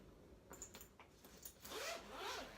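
Zippers on a packed travel bag being drawn open and shut in quick short rasps, close and fairly quiet, with no talking.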